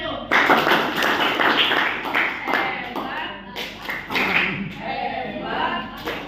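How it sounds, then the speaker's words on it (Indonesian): A school class joins in a rhythmic clapping cheer during a mathematics lesson on the Pythagorean theorem, with patterned claps and voices chanting along, loud and close throughout. "Tepuk hebat buat Enu."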